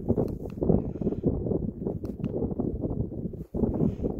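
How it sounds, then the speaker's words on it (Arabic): Steady, rumbling wind buffeting the microphone close up while testing a Segway Ninebot Max G2 electric scooter outdoors, a continuous low roar with brief dips. "سوري في هوا كتير."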